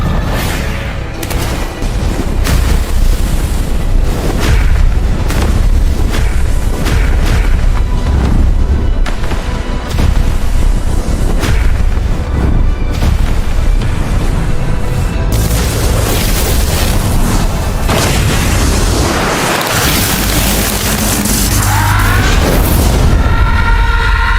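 An explosion sound effect from an animated Dragon Ball fight, one long, loud, continuous roaring boom with rumbling blasts that keep going without a break.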